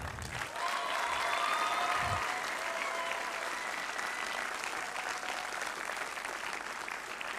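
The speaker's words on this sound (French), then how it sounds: "Allez, encore un dernier applaudissement." Audience applause at a graduation ceremony for the École des Nouvelles Images, steady dense clapping from a large crowd that fills the whole stretch at even strength, with a few faint voices in the background.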